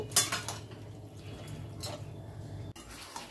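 A spoon clinks and scrapes against a metal pan while a dish of potato, onion and green chillies is stirred and mixed, in a few quick bursts of clattering with faint kitchen noise between.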